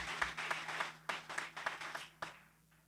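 A church congregation applauds during a Catholic carnival preaching event in Brazil, steady moderate clapping with sharp accents that fades out toward the end, heard at a distance with no talk over it.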